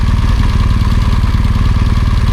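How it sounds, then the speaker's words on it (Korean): A BMW R1200GSA motorcycle engine runs steadily just after starting, a close, loud, even idle with a rapid low pulsing beat and a light mechanical clatter, no voices. "오랜만에 시동을 켰는데"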